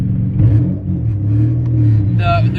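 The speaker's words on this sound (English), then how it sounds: "the car's laggy till it gets like all the way into boost without the exhaust" A single-turbo Nissan 370Z without its exhaust revs in a racing video game, a steady mid-loud engine drone rising and falling in pitch, with a brief vocal burst near the end.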